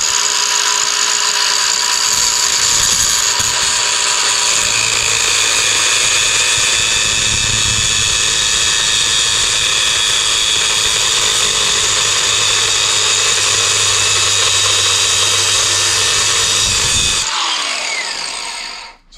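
A power tool cuts into the rear axle bearing cage of a 2003 Jeep Grand Cherokee. It makes a loud, continuous, high-pitched grinding whine for about seventeen seconds, then winds down and stops.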